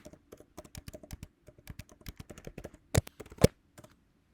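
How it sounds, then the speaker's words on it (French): Crisp, close keystrokes as a password is typed on a computer keyboard, an uneven run of individual clicks with a couple of louder, sharper presses near the end. "tape le mot de passe"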